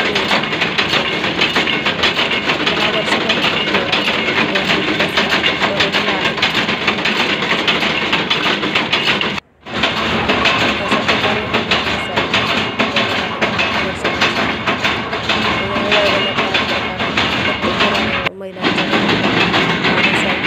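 A flour mill grinds garam masala spices and dried chillies for Kolhapuri chutney masala, making a loud, continuous mechanical drone close by that drops out briefly twice.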